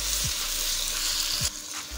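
Potato pieces frying in hot oil with browned onions for egg curry: a steady bright sizzle with occasional soft thuds of stirring, the sizzle dipping briefly near the end.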